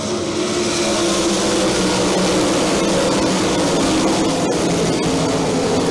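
410 sprint car engines roar together on a dirt speedway at BAPS Motor Speedway, a loud, dense, continuous drone of racing motors under throttle with no break across the stretch.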